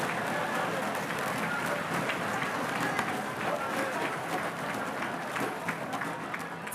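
An audience at a MATHCOUNTS math competition claps and cheers in a sustained, even burst of applause that carries through the whole moment, with a voice speaking faintly beneath.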